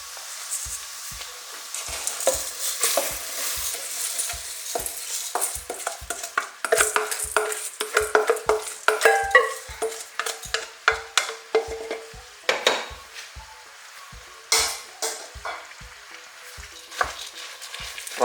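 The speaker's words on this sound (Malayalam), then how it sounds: "റൈസ് ചേർത്തതിന് ശേഷം ഇളക്കി കൊടുക്കുക." Rice and vegetables stirred in a frying pan for a vegan vegetable rice, steady sizzling broken by repeated scraping strokes of a spoon against the pan, close and moderately loud with no voices.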